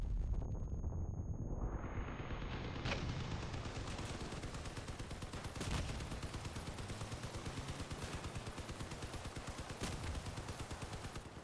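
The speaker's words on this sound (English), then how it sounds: "Stu, we gotta watch out for those cannon guys." In the video game Crossout, continuous loud roar of battle gunfire, punctuated by a few heavy booming cannon blasts at spaced intervals.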